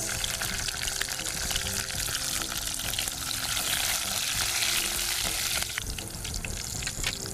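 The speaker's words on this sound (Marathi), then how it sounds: "ही सहा मिरच्या आहेत त्या चिरून घेतलेल्या आहेत त्याही फोडणीला घालायच्या आहेत" Garlic and chopped green chillies sizzle in hot tempering oil for fodshi bhaaji, a dense, continuous crackling fry heard close and loud, easing slightly toward the end.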